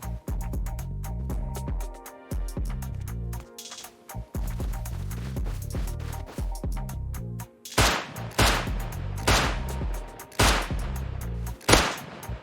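Gunfire in the video game Rust: repeated loud, sharp shots and rapid bursts, clustered densely in the second half, with no talking.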